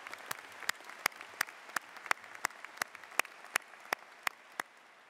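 Sparse, evenly spaced claps ring out at a commencement ceremony, about fifteen sharp individual hand claps in a steady rhythm, fairly faint against a quiet room.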